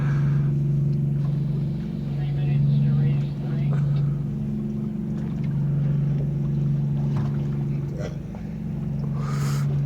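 A boat's two-stroke engine runs at a steady idle nearby, a continuous low drone that sits under occasional voices and light background sounds.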